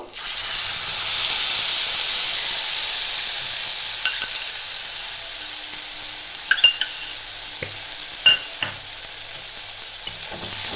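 A spice paste of ginger, cumin, chili and turmeric fries in a pan with a steady, bright sizzle and hiss, broken by a few sharp spatters and clicks from stirring.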